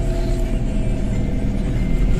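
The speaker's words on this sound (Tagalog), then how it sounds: "Traffic." Road traffic in Davao City rumbles around a Golden Valley bus bound for Tagum City, a loud, steady low engine drone with passing vehicle noise and no clear breaks.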